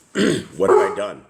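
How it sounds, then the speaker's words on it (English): A pet dog named Leo gives a couple of short, close barks in quick succession, mixed with a voice speaking over them. "That is our dog"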